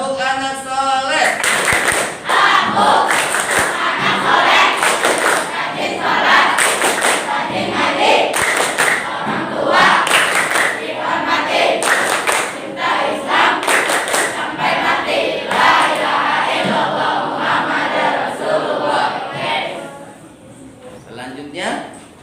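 A classroom of children chanting the 'tepuk anak soleh' clapping chant, rhythmic bursts of hand claps and thumps mixed with voices, sustained and loud throughout, dipping near the end.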